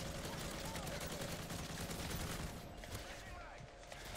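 Dense automatic gunfire in the shooter game Modern Warfare, a loud continuous barrage of rapid shots close by that eases slightly toward the end, with a voice talking over it.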